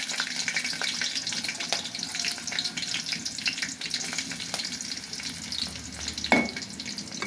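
Onions frying in oil with green chillies, a dense, steady close sizzle with light stirring taps and one brief clank near the end, no voices.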